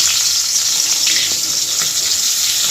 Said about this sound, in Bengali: তেলটা গরম হয়ে গেছে এবার মাছগুলো এক এক করে দিয়ে দেবো